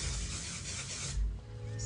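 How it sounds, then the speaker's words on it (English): Hairspray from an aerosol can hissing onto styled hair in a steady broadband spray lasting about a second, then stopping, with low handling noises after. "I'm gonna take a little bit of hairspray"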